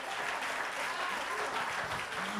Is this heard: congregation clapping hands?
yes